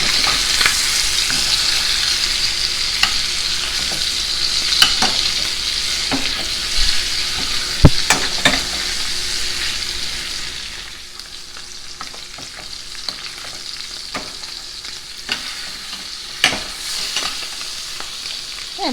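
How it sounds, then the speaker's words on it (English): A steak sears and is basted with butter in a hot pan, producing a steady loud sizzle with frequent spoon scrapes and spatter pops, easing somewhat halfway through. "now you want to baste your steak with the butter"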